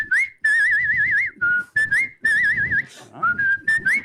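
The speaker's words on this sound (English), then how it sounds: "Come on, whistle something for us." Someone whistles a lively tune in short phrases with warbling trills, close and clear, with brief pauses between phrases.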